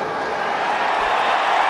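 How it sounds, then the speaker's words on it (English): A dense, loud crowd roar fills a rugby stadium at the Golden Lions versus Western Province Currie Cup final as a place kick succeeds, a sustained broadband swell with no individual voices standing out. "Great roar from the crowd as Marlos Borsoff kicks his first successful place kick"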